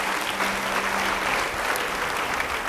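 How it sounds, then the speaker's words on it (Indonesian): Steady applause from a church sermon audience fills the whole stretch, a dense even wash of many hands clapping at moderate distance, with no pause or voice on top. "Yang setuju beri tepuk tangan."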